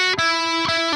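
Distorted electric guitar playing a short phrase from a solo, with sustained, rich notes and a few sharp picked attacks changing pitch, loud and alone without talk.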